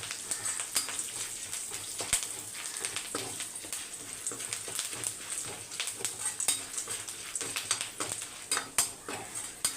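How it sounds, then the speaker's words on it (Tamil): Dried turkey berries fry in hot oil in a home kitchen for a Tamil vatha kuzhambu, a quiet crackling sizzle broken by frequent sharp pops and the clink of a utensil against the pan. "நல்லா சுண்டை வத்தல் பொரிஞ்சிடணும்."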